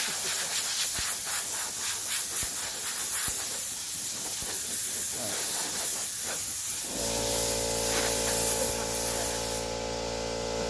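Compressed air blasts loudly from a hose in a long continuous hiss, then cuts off, leaving a steady mechanical hum.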